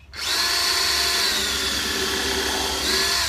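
A power drill whirs loudly and steadily as it pre-drills wood for finishing nails on a planter box, spinning up at the start and briefly revving again near the end.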